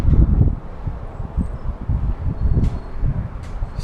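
Wind gusting at about 15 to 28 mph roars and buffets steadily against the microphone in rising and falling surges, loud and close, with faint rustling and no voices.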